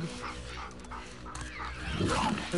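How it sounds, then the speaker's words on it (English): A dog barks and whimpers amid gunfire and game combat noise in The Last of Us Part II, with a player's excited shouts over the action. "The dog!"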